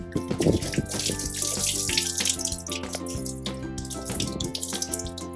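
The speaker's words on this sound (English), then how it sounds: "Now, I will lower the nest and the anchor into the water." A small model nest and anchor, built for a grades 1-3 science olympics, are lowered into water, giving soft splashing and sloshing sounds under steady background music.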